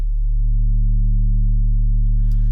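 A deep, steady synthesized sub bass tone drones continuously and loudly, smooth and warm, with a faint hiss creeping in near the end.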